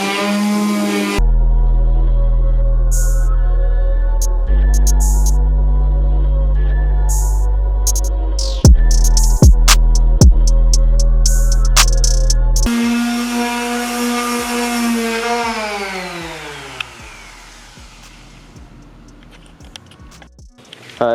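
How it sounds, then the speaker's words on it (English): A power sander with 120-grit paper works a DIY side splitter for a Subaru BRZ / Toyota 86 / Scion FR-S. Its loud, steady motor whine comes in several bursts with brief scraping knocks, then winds down toward the end. No one speaks. "we just finished sanding it"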